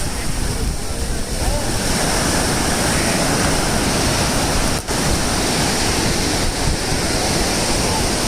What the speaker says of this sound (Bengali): পৃথিবীর সবথেকে বড় সমুদ্র সৈকত, 140 কিলোমিটার ব্যাপ্তি এই সমুদ্র সৈকত।